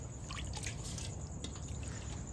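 Running water while washing vegetables in a home kitchen, a continuous trickle and splash with scattered drips, close and steady throughout.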